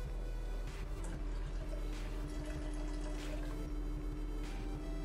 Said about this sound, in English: this is about 3 ounces of coconut milk